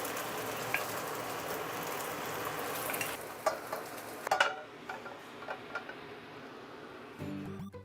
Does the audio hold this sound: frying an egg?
yes